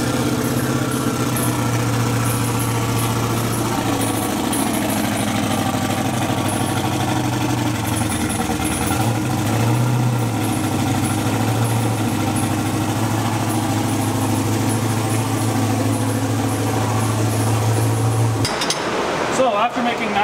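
An LS-swapped Mustang idles steadily and loudly with a deep, continuous rumble and a slightly lumpy pulse, running close up and alone until it cuts off abruptly near the end.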